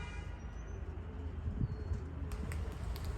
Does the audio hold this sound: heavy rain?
no